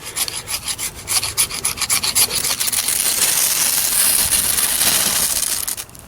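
Repeated rasping scrapes of a ferro rod striking sparks onto dry pine straw tinder outdoors, a quick rhythmic series of close, loud strokes that blur into a sustained, steady grinding hiss.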